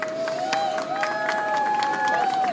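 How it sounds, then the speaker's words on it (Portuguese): Applause at the arrival of passengers rescued from the war in Israel on a Brazilian Air Force flight in Brasília, moderately distant and steady, mixed with crowd noise and a sustained tonal sound. "Está aí um aplauso"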